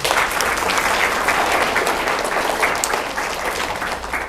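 A room of students and guests gives sustained applause, a dense even burst of many hands clapping that holds steady for several seconds before tapering slightly.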